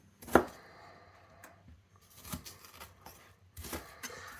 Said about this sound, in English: You can just give this a rough chop.